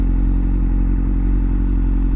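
A 2013 Kawasaki Ninja 636 engine runs at a steady idle, loud and close, a constant low rumble with no revving, and no voices.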